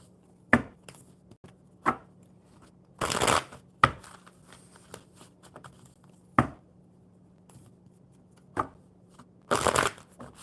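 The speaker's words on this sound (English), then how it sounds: "One more good shuffle for Raymond." A deck of playing cards is shuffled close up in short, crisp riffling bursts with brief taps and pauses between them, in an otherwise quiet room.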